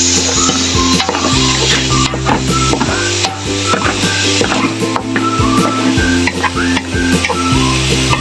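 Chopped onions frying for sisig in a home kitchen, stirred loudly with a utensil scraping and clinking against the pan over a constant close sizzle, with music in the background.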